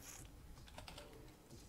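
Fingers tap rapidly on a computer keyboard in a quick, uneven run of faint keystrokes heard alone.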